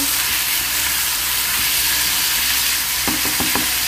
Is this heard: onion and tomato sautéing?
yes